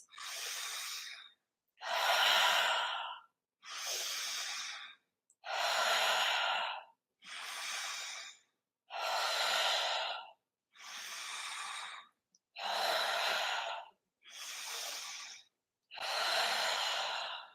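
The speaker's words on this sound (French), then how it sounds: "on inspire avec le nez, on souffle avec la bouche" Ten slow, even yoga breaths in a row, each a nose inhale followed by an audible exhale through the mouth, close and clear, separated by short silences and with no talking.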